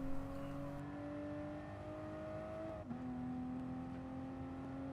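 A Toyota GR Supra GT Cup race car at full throttle in Gran Turismo Sport on the Nürburgring 24h circuit, its engine holding a steady, loud drone that climbs in pitch, drops briefly at a gear change, then climbs again.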